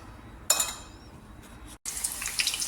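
Whole garam masala dropped into hot oil for a biryani, a sudden bright sizzle bursts up, settles briefly, then a second spell of steady crackling spitting follows after a short gap, close and moderately loud.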